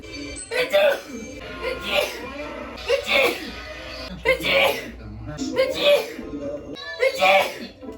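A woman with a sneezing fit sneezes repeatedly in a home setting, four or five sharp close bursts spaced a second or so apart, with breathy sounds between them.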